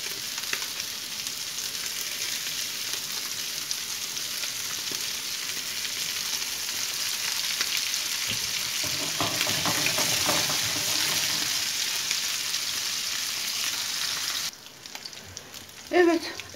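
Anchovies fry in a shallow film of oil with a steady, bright sizzle that holds for most of the stretch, then drops away near the end, leaving a few faint clinks.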